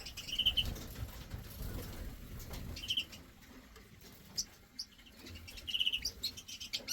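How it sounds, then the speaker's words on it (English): Goldfinch–redpoll hybrid finches give soft, high twittering chirps in brief scattered bursts over a faint, rustly background, in a bird room. "Goldfinch redpoll hybrids"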